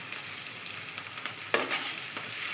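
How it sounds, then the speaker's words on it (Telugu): Eggplant and tomatoes fry in a pan with a steady, close sizzle and crackle, broken by a few sharper pops and stirring scrapes, with no talking. "టమాటాస్ వేగుతున్నాయి కదండి."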